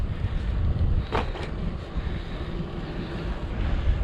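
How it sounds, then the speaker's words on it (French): Steady low rumble of headwind buffeting the microphone on a gravel bike ride at night through a forest, a continuous roar with slight gusts and no talk. "J'ai un petit vent de face"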